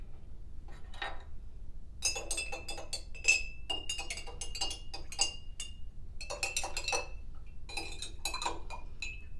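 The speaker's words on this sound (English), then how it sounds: "I'm gonna use my spoon and just stir these up a little bit." A metal spoon stirs colored water in a glass, giving a steady run of light clinks and taps against the glass, close and fairly quiet, in bursts with short pauses between them.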